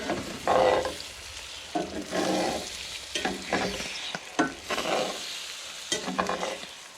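Eggs are whisked in a mixing bowl for scrambled eggs at a mountain campsite, making a series of uneven scraping and clattering strokes, moderately close, with brief pauses between bursts and no talk.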